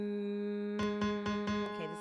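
A keyboard holds a steady sustained note, then a run of four or five rhythmic, accented strikes follows over the drone, close and clear with no voices.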